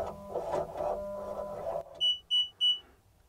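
Three short, clear electronic beeps from a Bobcat machine controller during actuator calibration, evenly spaced, following a stretch of low mechanical hum and rumble.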